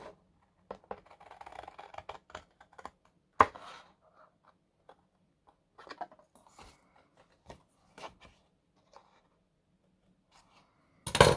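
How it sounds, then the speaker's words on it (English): Blade cutting through cardstock along a score line while making a handmade card, faint scattered scratching and tapping sounds with quiet gaps, plus a sharper knock near the start and end. "I'm going to cut along this score line."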